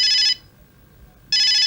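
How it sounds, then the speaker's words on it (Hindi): Mobile phone ringtone trilling loudly and close, one steady electronic burst, a second of near silence, then the ring starting again. "डरिए मत, ये मेरे मोबाइल की घंटी है, ये मेरे लिए बज रही है।"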